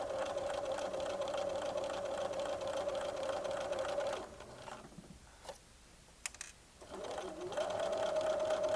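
A sewing machine runs steadily along a diagonal corner seam, humming loudly up close, stops briefly with a few faint clicks, then starts again.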